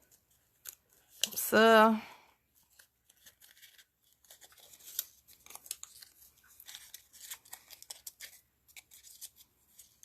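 Scissors snip quietly around the edge of a small paper envelope tag, a string of soft, irregular cuts and paper rustles close by, with someone speaking briefly at the start.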